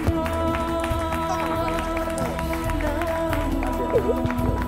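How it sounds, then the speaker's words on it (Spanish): A studio audience applauds a singer on the Spanish TV show Toni Rovira y Tú, with steady crowd clapping mixed with music throughout. "Ese aplauso que suene."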